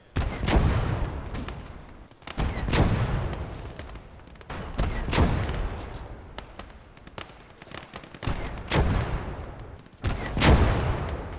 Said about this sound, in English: It appears we have an enemy gun shooting at us.